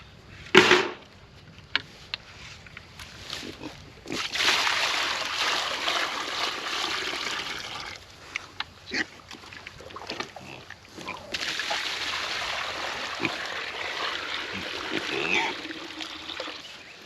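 Pigs splash about and tip out a water container on a homestead, bursts of sloshing, pouring water and snuffling close by, in two long busy stretches with someone talking between them.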